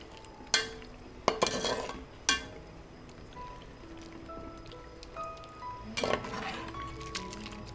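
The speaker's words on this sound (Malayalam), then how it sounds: "എന്നിട്ട് ഇത് നല്ലതുപോലെ മിക്സ് ചെയ്യുക." A spoon stirs ada into jaggery syrup for payasam, giving scattered, faint clinks and scrapes against the pot that come in short bursts with quiet gaps between them.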